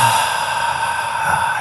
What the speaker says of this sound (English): Deep breathing, that's your power.